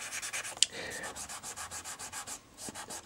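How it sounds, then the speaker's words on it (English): Pastel pencil rubbed on paper in quick rhythmic back-and-forth strokes, soft and close, a steady scratchy whisper with a brief tap partway through and no voices. "When I rub that, I've got to make sure there's plenty of white on it."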